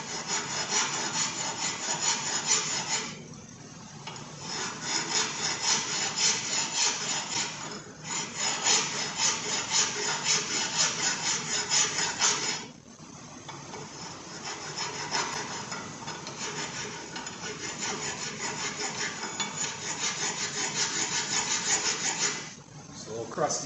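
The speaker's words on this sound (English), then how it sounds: "let's give her a little filing" Metal brake parts on a 2017 Chevy Traverse are filed during a front and rear brake pad and rotor job, giving repeated long rasping strokes in three bursts separated by short pauses, close and fairly loud.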